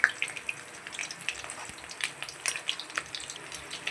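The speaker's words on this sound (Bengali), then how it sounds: "ডিপ ফ্রাই করে দিয়েছি" Chicken donuts deep frying in hot oil, a soft, steady sizzle with small crackling pops, close and fairly quiet, with no talking.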